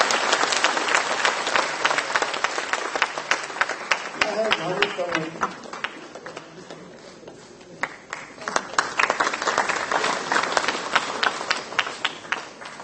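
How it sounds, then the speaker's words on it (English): Hall audience at an NLU New Delhi ceremony clapping for student achievers as names are read, with sharp individual claps over a crowd wash that dips briefly in the middle, and a short bit of voice partway through. "big round of applause"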